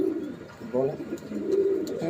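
Imported Pakistani Teddy pigeons coo in a loft, low throaty calls close by, with a person speaking faintly underneath.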